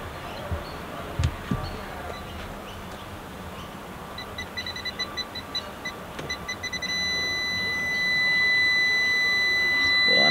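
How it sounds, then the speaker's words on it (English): Loktracer leak tester searching for a car air-conditioning refrigerant leak, emitting steady high electronic tones and short bursts of beeps that quicken and intensify toward the end, with faint background noise. "with the Loktracer leak tester, we can actually show you quickly where it's going"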